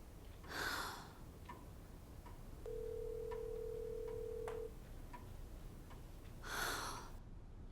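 A telephone rings in a quiet room during a drama scene: two short electronic ring bursts about six seconds apart, with a steady tone held for two seconds between them, all fairly faint.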